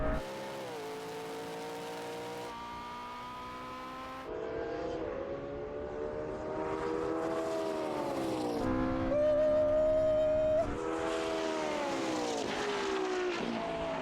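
Porsche 918 hypercar engine revving hard as it accelerates, rising and falling engine tones with gear changes, loud and continuous for over a dozen seconds.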